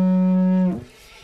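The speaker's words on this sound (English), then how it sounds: "you're going to want to play a trumpet tone, which sounds like this." Didgeridoo blown with lips buzzing too tightly, producing a short, bright, trumpet-like tone that holds steady for under a second, then breaks off into a fading rumble.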